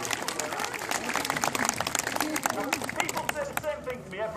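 An audience clapping at a sea lion show, busy and uneven applause mixed with crowd chatter and a voice talking over it.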